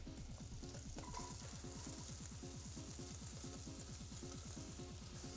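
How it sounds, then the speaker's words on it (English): Onions dropped into caramelizing bacon in a pan for New England fish chowder, a steady close sizzle and crackle, faint and continuous with no talk. "we're going to go ahead and add the onions at this point"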